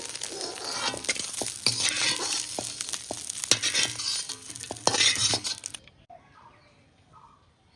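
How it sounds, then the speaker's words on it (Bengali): River fish fry in a wok with a loud, steady sizzle broken by sharp clicks of a utensil against the pan; the frying stops abruptly near the end, leaving near silence. "এদিকে মাছগুলো ভাজা হয়ে গিয়েছে। এবার তুলে নেব।"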